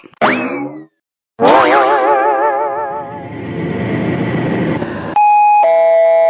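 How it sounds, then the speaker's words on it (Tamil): An electronic doorbell chimes loudly in a few melodic tones, the first ringing with a wavering echo before two clean, sustained ding-dong notes. "என்ன காலிங் பெல் அடிக்கிற சத்தம் கேக்குது?"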